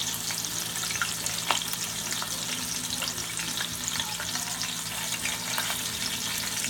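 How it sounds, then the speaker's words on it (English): Beef searing in a pan for pot roast, a steady, full sizzle with occasional crackles and a faint hum beneath, close and constant throughout, without speech. "You searing all the flavor in."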